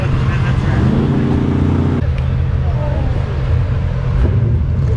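Audi R8 V10 twin-turbo car at a quarter-mile drag racing event, a loud continuous low engine roar with a brief higher rumble in the first two seconds, no speech over it.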